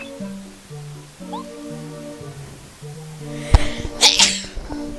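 A single loud, close sneeze breaks out late and runs into a breathy follow-through, after quiet retro game music with tonal beeps in the background.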